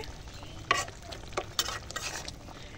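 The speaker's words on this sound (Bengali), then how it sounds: "এখন চুলার একটু নেড়ে চেড়ে দিচ্ছি।" A pot of layer chicken bhuna is stirred on the stove, with a few sharp spoon clinks and scrapes over a soft, steady simmer; no one speaks.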